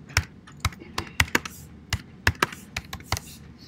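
A computer keyboard clatters under quick fingers as a short search query is typed, with irregular sharp key clicks close by and brief pauses between bursts.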